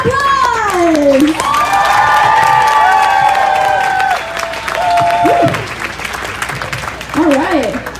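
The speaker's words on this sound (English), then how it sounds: "let's give one more big round of applause!" A crowd applauds and cheers, with high whoops and shouts rising over steady clapping, then gradually thinning out.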